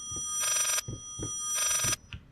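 A telephone rings in the horror game Layers of Fear, two bright electronic ring bursts with a pause between them, heard over faint low thuds and footsteps.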